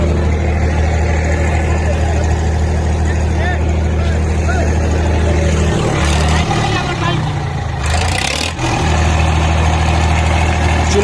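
A Sonalika 35 tractor engine idles steadily at a harrow competition, a loud low drone that rumbles through the whole stretch, with a brief surge and shift in the middle while people talk over it.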